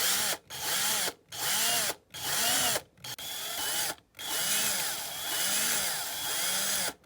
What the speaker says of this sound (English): we'll get straight on to the drilling. These are fairly big rivets in here